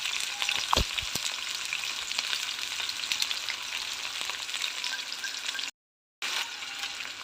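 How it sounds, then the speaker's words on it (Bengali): Chopped onion and green chilies frying in hot oil for a khichuri meal, a steady broadband sizzle throughout with a few faint stirring clicks, one short dropout near the end. "তো তারপরে দিয়ে দিলাম এখানে কাঁচা মরিচ আর কিছুটা পেঁয়াজ কুচি"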